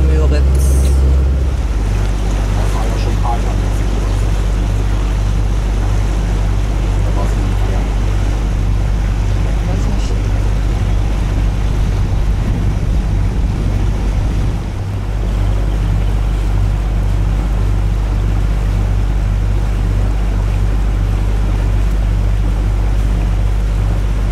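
A motorboat cruises through a canal in Mecklenburg on the way to the Binnenmüritz lake, its engine a loud, continuous low drone with wind and water rush. A voice speaks over it.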